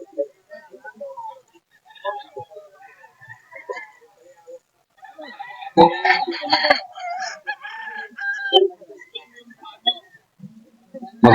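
Chickens and roosters at a poultry market in Bocaue, Bulacan, clucking and crowing close by, with louder bursts midway, under intermittent talk from people bargaining.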